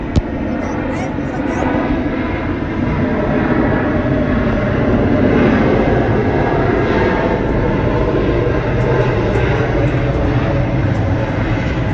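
A JetBlue jet takes off at Atlanta Hartsfield-Jackson airport with a loud, sustained roar of engines that holds steady for the whole stretch, close and powerful, with no talk over it.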